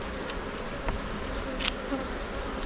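Honeybees buzz at an open hive during an inspection while ejecting wasps, a dense steady hum close by with occasional louder passing buzzes and no speech.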